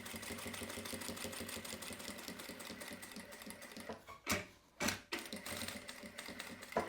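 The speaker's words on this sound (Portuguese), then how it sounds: "Tô costurando aqui a curva." A sewing machine stitches a curve in fabric with a steady, fast rattling run, then pauses briefly with two sharp clacks before resuming; no voices.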